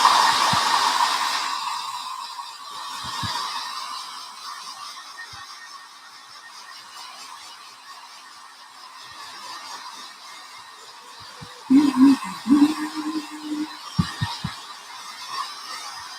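A hair dryer blows loud and close for drying chalk paint on fall leaf crafts, a steady whooshing hum that fades lower and continues under a few soft knocks and handling sounds near the end.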